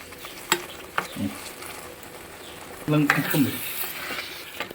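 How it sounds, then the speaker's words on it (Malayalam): Goat liver masala frying on high flame, a low sizzle broken by sharp spatula knocks and two bursts of vigorous stirring and scraping against the pan, close by with no talk. "2-3 മിനിറ്റ് ഇച്ചിരി ഫ്ലെയിം കൂട്ടി വെച്ച് നന്നായിട്ടൊന്ന് ഫ്രൈ ആയിക്കട്ടെ"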